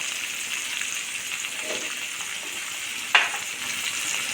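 Tomatoes sautéing in a pan for a ridge gourd coconut milk curry, a soft continuous sizzle with a faint scrape at one point and a short sharp clink near the end, no talking.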